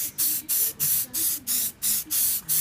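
Sand-colored spray paint hisses onto an AR15 rifle in eight short even bursts with brief gaps between, close and loud, no talk.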